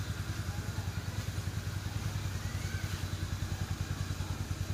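A GY6 200cc engine on a 4x2 UTV military buggy drives along with a rapid, even putter and a clattery low drone that holds steady and close throughout.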